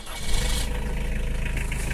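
A diesel vehicle engine, freshly repaired after injector, injection pump and turbo work for smoky exhaust, idles with a steady low rumble, close and moderately loud, with no talking.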